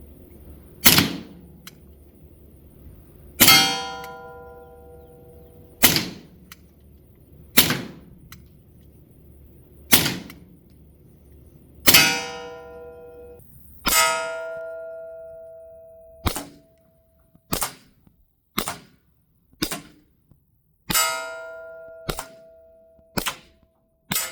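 Bullets striking a Caldwell Flash Bang steel target outdoors: a string of sharp, ringing metallic pings spaced a second or two apart, each with a short decaying ring, some clearly tonal, with no talk.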